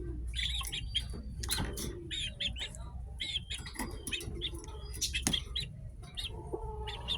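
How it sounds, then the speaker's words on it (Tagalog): Hens and roosters on a game farm cluck and chirp in a steady, busy chorus of short calls, moderately close, with no talking. "Ang gandang inahin."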